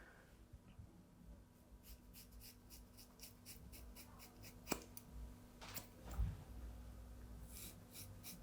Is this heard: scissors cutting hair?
yes